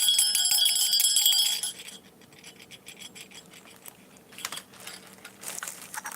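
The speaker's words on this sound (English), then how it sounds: "This one is a Jingle Bell" A jingle bell snowman ornament rings with a bright, dense metallic jingle for a moment before fading, followed by scattered faint rustles and small jingling taps, with no talk.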